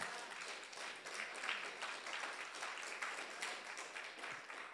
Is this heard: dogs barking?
no